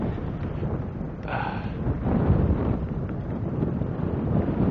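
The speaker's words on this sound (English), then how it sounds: "Oh, it's really windy out here." Strong wind buffets the microphone in a steady low roar, rising and falling in gusts, close and loud, outdoors during a hill test of a 2018 Rad Power RadMini electric folding fat bike.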